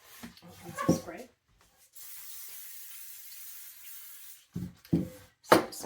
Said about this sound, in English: Some spray.